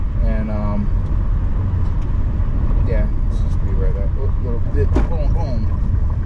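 Subaru Forester rolling along a narrow dirt road near Horseshoe Dam, Arizona, with a steady low road rumble and crunch under a voice talking close by.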